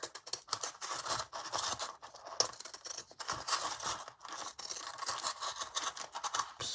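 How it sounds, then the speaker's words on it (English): Pinking shears snip along a strip of glitter foam for a curtain-ring Christmas decoration, giving a continuous close scratchy crunching with quick repeated cuts. "I like to cut the edge of this with a pinking shears"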